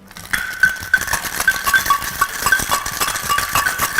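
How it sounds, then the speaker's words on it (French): Ice cubes rattle and clink inside a cocktail shaker while a non-alcoholic spritzer mocktail is being mixed, a rapid, continuous rhythmic shaking, close and fairly loud, with no voices. "On entend beaucoup moins les glaçons."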